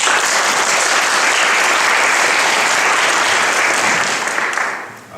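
A church congregation at a Sydney revival service applauds the choir in a dense, loud, sustained wash of clapping that holds steady for several seconds before fading out.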